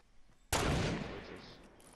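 A single sharp gunshot in the Fortnite video game during a snipers-and-revolvers match, a loud sudden crack followed by a decaying echoing tail over quiet background.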